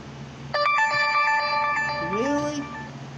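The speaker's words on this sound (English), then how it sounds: "I keep being distracted by this notification" A phone notification chime rings out clearly, a bright tonal ring with several steady harmonics lasting about two seconds, then a short rising blip as it fades, over a quiet room.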